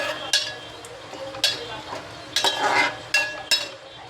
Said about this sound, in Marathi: हे मसाले सगळे आपण आता चांगले भाजून घेऊया, परतवून घेऊया